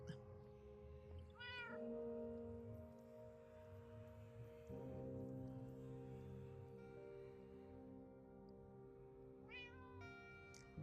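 A cat meows in the Minecraft video game, a couple of short rising calls heard near the start and again near the end over a steady tonal game music background.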